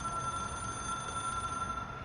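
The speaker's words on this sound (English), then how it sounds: "It is a phone." A telephone rings steadily in the video game Control, a constant electronic tone over a dense background hum with no speech.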